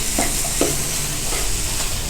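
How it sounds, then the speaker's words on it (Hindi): Food sizzling steadily in a hot pan for shahi chana, with soft scraping stirs at intervals over a constant close frying hiss. "इनको थोड़ी देर के लिए फ्राई करेंगे।"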